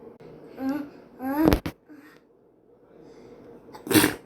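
A single sharp sneeze bursts out loud and close, preceded by a couple of short vocal squeals and followed a few seconds later by a brief breathy burst.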